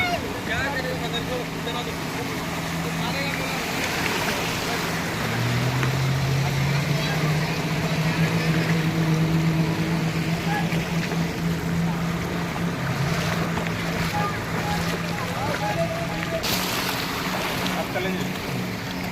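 Small passenger boat riding at sea off Corbyn's Cove Beach in the Andaman Islands, with a steady engine drone, wind, and waves washing around the hull, while people talk over it.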